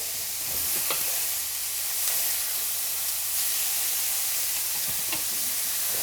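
Beef steak, a chopped-beef patty, sizzling and spitting in a very hot frying pan, a steady close hiss with occasional sharper crackles and pops throughout, no talking.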